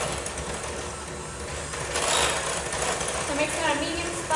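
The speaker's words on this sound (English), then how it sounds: "So mixing at a medium-high speed here." An electric mixer beats cream cheese at medium-high speed for pumpkin cheesecake cookies, making a steady motor whir and churning hum throughout, with a slight swell midway.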